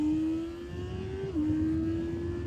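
A Honda E-Clutch motorcycle engine is held at high revs on a track: a loud, steady, close whine that dips briefly partway through, then settles back to a sustained high pitch, with no talking.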